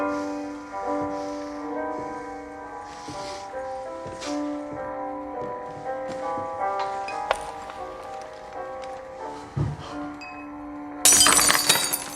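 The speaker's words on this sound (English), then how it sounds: "If I drop a glass on the floor, you pick it up." Glass dropped on a floor shatters near the end in a sudden loud, bright crash. It follows a long stretch of steady background music scattered with light clinks and knocks.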